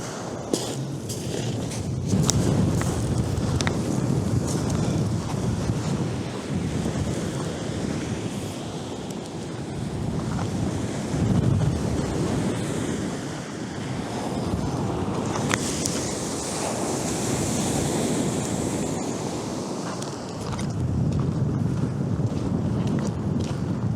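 Strong wind buffets the microphone at a shingle beach at Glyne Gap, Bexhill, during a fishing trip, with waves surging and breaking close by in a loud, continuous roar that swells and eases with no talking.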